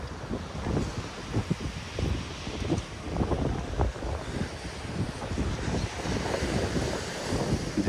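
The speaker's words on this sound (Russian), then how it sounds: "По-моему, там дальше еще сильнее волны." Stormy sea waves surge and break against the Olympic embankment in Adler, Sirius, with strong gusting wind buffeting the microphone, a continuous loud rumbling roar without speech.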